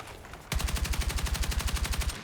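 Rapid automatic gunfire in the video game Battlefield Redsec, a steady burst of evenly spaced loud shots starting abruptly after a brief quiet lead-in and continuing without pause.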